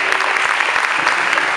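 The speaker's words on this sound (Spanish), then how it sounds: "Démosles un fuerte aplauso." Loud, close applause from an event audience in El Salvador, a dense burst of many hands clapping without pause.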